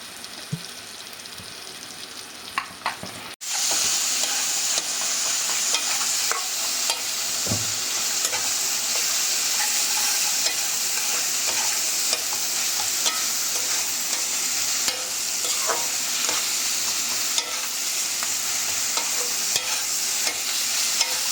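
Salt, turmeric and chopped chili are stirred and fried in a pan, a continuous bright sizzle with repeated scraping stir strokes throughout, close and steady with no talking.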